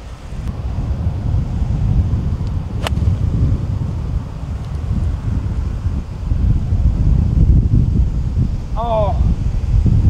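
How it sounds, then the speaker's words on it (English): Strong wind buffets the microphone across a golf course in the Bahamas, a loud steady rumble that swells and rises throughout, with a brief whistle-like chirp near the end. "This wind is gonna make it tough today"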